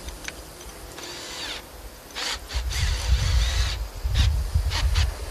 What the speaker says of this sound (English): for the spigot, slightly bigger, I'm going to use a 3/4 inch bit